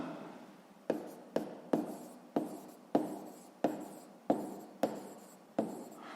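Pen strokes writing out a sixth-grade maths solution about the side of a square, with about nine short scratching bursts at an uneven rhythm, close and fairly quiet.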